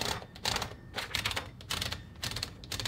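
Paper being fed and rolled into a 1940s L.C. Smith Corona Sterling Speedline typewriter, a steady run of close mechanical clicks and ratcheting bursts with no talking.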